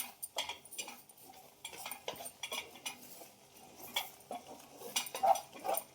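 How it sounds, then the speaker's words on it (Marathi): Spoon clinking and scraping against a steel vessel while stirring turmeric, black salt and roasted cumin powder together for ginger candy, a series of light irregular metallic taps and scrapes, close and fairly quiet. "हळद आणि भाजलेली जिऱ्याची पूड. व्यवस्थित हे सगळं आपण हलवून घेऊ."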